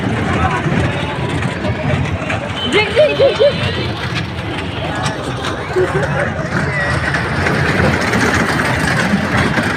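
A low rumbling train engine idles and rolls under constant crowd babble, with people talking nearby.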